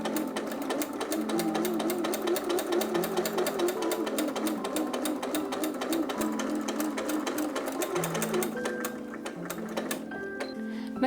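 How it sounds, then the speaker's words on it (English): A sewing machine stitches a leg seam on a pair of shorts, running steadily with a rapid, even mechanical ticking close by. Near the end it slows and stops in short bursts, with no talking. "I'm just putting these right sides together and sewing up the leg seam."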